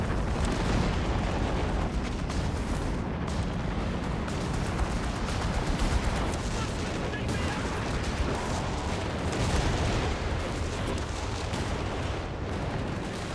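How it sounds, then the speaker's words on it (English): A creeping artillery barrage in the World War II strategy game Company of Heroes 3 rolls on as a dense, continuous wall of loud booms and blasts, with overlapping detonations and no pauses. "Counter barraging, going after the bishop with the creeping barrage."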